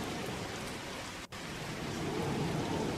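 Steady heavy rain from a storm in Red Dead Redemption 2, a dense, even hiss of downpour throughout with a brief dip near the middle, no voices.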